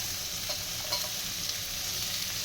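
Chopped onions sizzling in a pan for restaurant-style manchow soup, with a steady frying hiss and a few light stirring scrapes, close and continuous with no talking.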